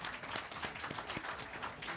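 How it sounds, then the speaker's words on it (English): Audience applause at an ophthalmology conference awards session, a steady dense wash of many hands clapping throughout, moderately loud with no talk over it. "I think it's big round of applause."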